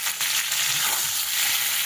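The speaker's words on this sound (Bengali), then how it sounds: "দেখো আলুটা লাল লাল ভাজা হয়েছে আর একটু লাল করব" Steady, dense sizzling of potatoes and onions frying in oil, with a continuous hiss and a few soft bubbling pops underneath.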